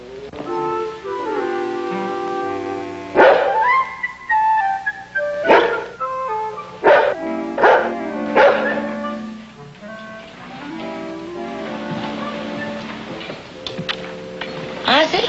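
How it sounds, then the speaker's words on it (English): Dog barks repeatedly in irregular bursts over a bed of music, with voices present at times; sharp, fairly close yaps spread across the whole stretch. "He seems to have stopped barking."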